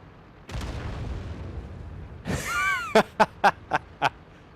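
Tank cannon fire in World of Tanks during a tier 10 company battle: a heavy boom with a rumbling tail, then a whining burst and five short sharp reports in quick succession, close and loud, with no talk.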